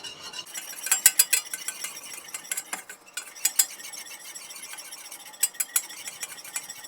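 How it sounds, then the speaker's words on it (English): Flour being whisked into a roux for mac and cheese, with a run of quick, bright metallic clicks and scrapes of a whisk against the pan, coming in bursts with short pauses, close and fairly quiet, no talking. "And we whisk."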